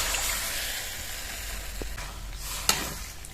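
A flour and semolina mixture is stirred into potato in a pan, giving a continuous close sizzle with a few soft scraping knocks of the spoon and no talking.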